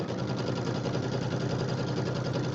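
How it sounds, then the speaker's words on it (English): A sewing machine runs steadily while stitching binding onto a St Patrick's Day settee pillow, a continuous close mechanical hum with a slight vibrating buzz and no pauses. "My machine kind of vibrates a little bit when I sew these bindings on."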